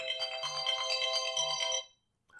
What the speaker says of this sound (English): Yep, that was my phone's alarm.